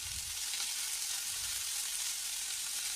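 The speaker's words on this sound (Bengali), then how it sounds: "জিরে গুঁড়ো, ধনে গুঁড়ো দিয়ে একটু জল দিয়ে মশলাগুলোকে কষিয়ে নেব" Ground cumin and coriander powder frying with a splash of water for a potato dish, giving a steady, close, hissing sizzle that stays even throughout with no voices.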